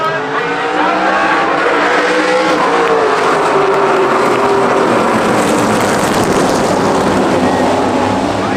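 SRX race cars at Stafford Speedway during qualifying, engines roaring loud and continuous as the pack passes close by, with shifting pitch and no break in the noise.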